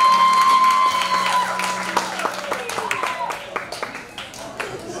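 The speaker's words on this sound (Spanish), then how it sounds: "damos este fuerte aplauso para la mamá del novio y su hermano." Applause at a wedding reception for the groom's mother and brother, steady clapping that fades gradually under a voice speaking over a microphone.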